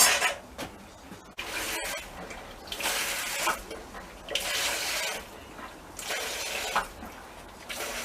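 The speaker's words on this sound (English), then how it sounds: "The beer's coming through there now." Home-brew beer runs through a pipe into a jug during a barrel change, a steady liquid rush in several swelling bursts, fairly close and moderately loud, with no talking.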